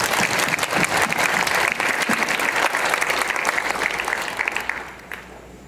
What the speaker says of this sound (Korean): 이 시간에 방송에 올라오실 때 뜨거운 박수로 환영하겠습니다